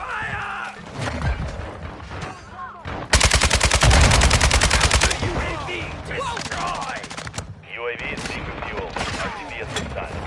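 Rapid automatic gunfire bursts in an online military shooter game, a loud sustained volley mid-clip amid scattered shots, radio chatter and game effects, with voices speaking over the action.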